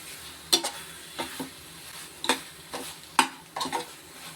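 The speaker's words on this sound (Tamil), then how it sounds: "இது நல்லா வந்து வதங்கி வரட்டும்." Prawn samosa filling, with ground pepper and cumin, fries in a little oil over low heat. A spoon stirs and scrapes the pan in several separate clinking strokes over a quiet sizzle.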